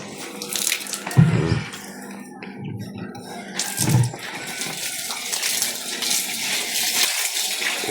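Water is poured into a cement plaster mix, with splashing gushes and sloshing in bursts amid scraping and clinking from outdoor plastering work.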